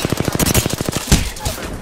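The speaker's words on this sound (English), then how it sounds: "Taking fire." Rapid automatic gunfire in the Apex Legends shooter, a fast burst of sharp close shots that thins into a few scattered cracks.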